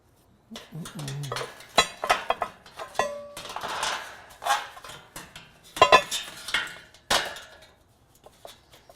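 Aluminum car grille trim is hammered flat at home, producing a busy series of close metallic taps and clanks of varying strength, irregularly spaced over several seconds.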